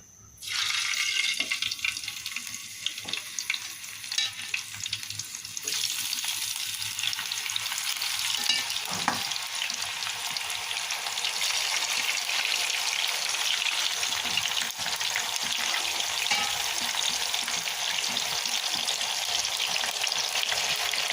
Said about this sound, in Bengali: আমি এখন চিকেনগুলো একটু বাদামি করে ভেজে নেবো